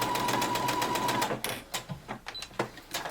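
A sewing machine runs a fast continuous stitching burst along the shoulder seam of a knit top, then slows into a few short separate whirring pulses, loud and close with no talking.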